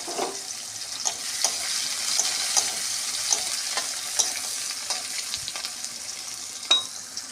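Potatoes, onion and pointed gourd fry in a pan over a tempering of dried red chilli, giving a steady moderate sizzle with light, regular taps of stirring and no talking.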